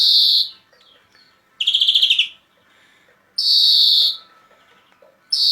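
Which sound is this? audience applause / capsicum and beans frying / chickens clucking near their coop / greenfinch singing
greenfinch singing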